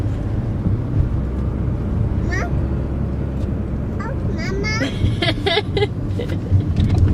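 Steady low rumble of a car interior while driving, with road and engine noise running throughout under bursts of conversation between people inside.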